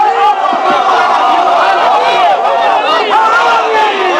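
A large crowd at a religious gathering chants the slogan Haidari together, a loud, dense wall of massed voices sustained without a break, with hands raised.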